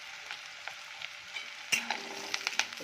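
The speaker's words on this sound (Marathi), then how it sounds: "कढीपत्ता पण छान परतून घेऊया" Curry leaves crackle and spit as they hit hot oil with onion, chilli and cumin, a steady fizzing sizzle that flares into a sharper burst of popping partway through.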